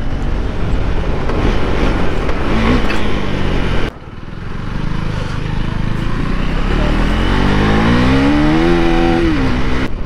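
A 2024 KTM Duke 390 single-cylinder motorcycle, with stock suspension, rides with a loud, steady engine drone and wind noise, then rises in pitch as it accelerates through the gears.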